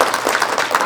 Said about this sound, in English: So round of applause for the planning team